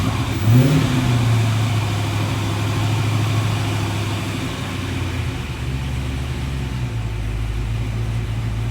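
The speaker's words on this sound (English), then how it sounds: "All right, she's idling on her own." A V8 engine, an LS3 416 stroker, rumbles at a steady idle with a deep low throb after a brief rev at the start; no talking.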